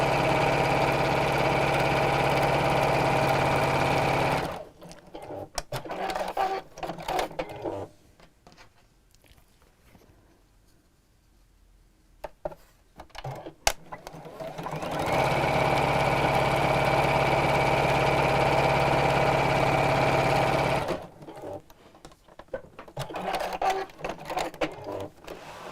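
A home sewing machine stitches a fabric book cover with a 1/4 inch seam allowance at a slightly shortened 2.4 stitch length, giving two long steady whirring runs separated by quiet stretches of handling the fabric.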